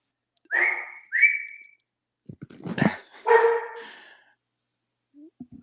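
Puppies let out a few high, whistly yips and short barks in separate bursts, close by and with no talking.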